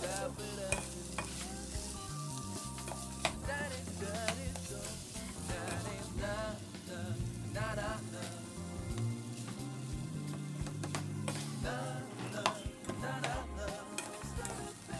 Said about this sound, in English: then start frying the rice.